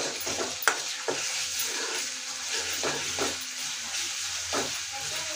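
Onions with spoonfuls of ginger garlic paste sizzle and hiss steadily in a hot pan for egg curry, with a few soft scrapes from stirring breaking through the constant frying noise.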